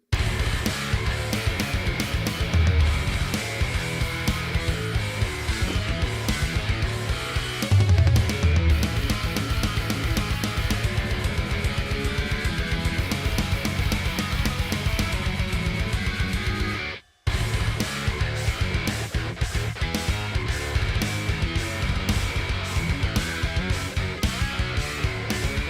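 A drum mix in progress plays back at steady, loud volume, with dense rhythmic hits driving continuously for the whole stretch except for one brief cut near the end.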